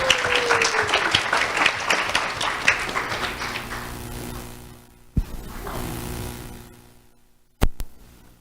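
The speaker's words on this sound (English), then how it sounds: "Let's have a round of applause for Mila Gellan." An audience at a sheriff's office awards ceremony applauds, a dense burst of clapping that tapers off after about five seconds, followed by a quieter patch of scattered claps, a soft hum and a couple of sharp knocks near the end.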